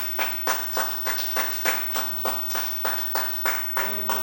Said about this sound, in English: let's get a hand clap for that thing